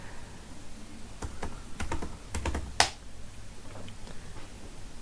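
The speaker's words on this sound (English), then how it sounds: "I'm gonna type in the password." A password is typed on a computer keyboard in a quiet room, a short run of soft, irregular key taps ending in one sharper, louder press like the Enter key, then light scattered taps.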